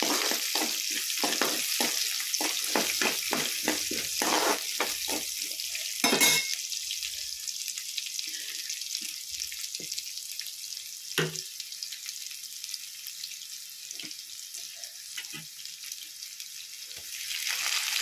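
Chopped onions frying in a pan for palak paneer, stirred in a quick series of scraping strokes at first, then a steady soft sizzle with occasional clinks, and no talking.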